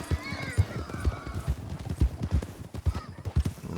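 Horses in Red Dead Redemption 2 trot with a steady, repeated clip-clop of hooves, and a whinny rises near the start. The sound stays close and moderately loud, with no talking over it.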